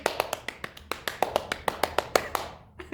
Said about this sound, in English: Well done with your clapping